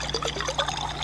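Short liquid pour and trickle from drinking water in the space survival game Stationeers, a soft, close splashing stream lasting about a second over a steady low hum.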